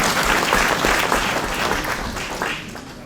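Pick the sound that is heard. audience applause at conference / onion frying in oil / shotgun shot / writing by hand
audience applause at conference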